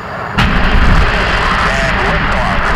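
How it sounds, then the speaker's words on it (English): The rocket carrying the DSCOVR spacecraft lifts off: a sudden loud blast gives way to a sustained, crackling roar, with a voice speaking over it. "And liftoff."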